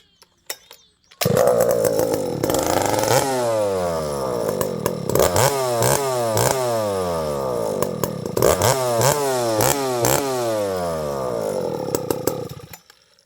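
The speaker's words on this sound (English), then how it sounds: "Let's get our hearing protection and fire the saw up." A 394XP chainsaw fitted with a bearclaw exhaust pipe starts with a pull, then roars loudly, revving up and down repeatedly in sweeping bursts before cutting off.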